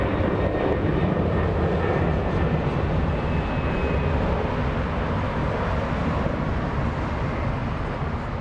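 An Airbus A380 airliner at LAX: a steady, loud, broadband engine roar with a low rumble, continuous throughout and unbroken by talk.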